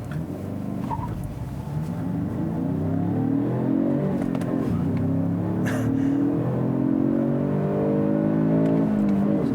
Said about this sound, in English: So this 2-liter engine has pretty good mid-range power.